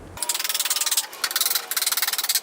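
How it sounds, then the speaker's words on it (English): A power drill bores through a reclaimed pallet board into the runner below, giving a close, rapid chattering whir in three bursts separated by short pauses. "I'm gonna drill through that straight into the runner"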